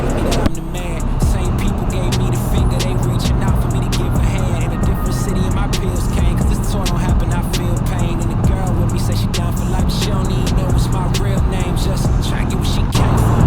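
Heavy traffic inside a New York tunnel, heard from a moving motorcycle: a loud, constant engine rumble and road roar reverberating off the walls, with vehicles droning close by throughout.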